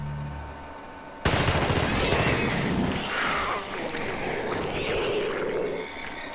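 Dense, loud gunfire from The Thing video game erupts suddenly after a quiet start and rattles on continuously, with overlapping bursts and crashing impacts.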